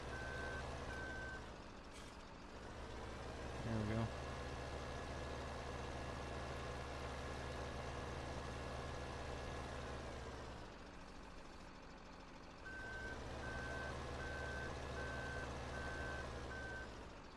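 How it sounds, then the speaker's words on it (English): A John Deere 748H skidder in Farming Simulator 17 idles steadily with a deep, constant engine drone, while evenly spaced reversing beeps sound at the start and again near the end. "this is the John Deere 748H skidder"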